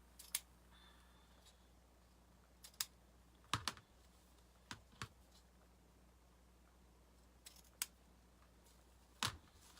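Scissors trim burlap in a quiet room: a handful of sharp, faint snips land at irregular intervals, some in quick pairs, with long pauses between cuts.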